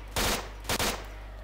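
Two short bursts of automatic gunfire from the shooter game S.T.A.L.K.E.R., each a quick 2-3 round volley, loud and close with a brief gap between them and no talk.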